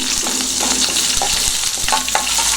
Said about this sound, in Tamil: அடுத்தது இந்த இதுலேயே வந்து கருவேப்பிலை போட்டுக்கலாம். பச்சை மிளகாய் நல்லா இதாயிரும்.